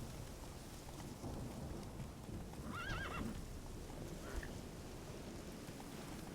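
A horse in the Witcher 3 video game whinnies once in a quavering neigh over a steady bed of in-game rain and ambient noise, with faint hoof clip-clops around it.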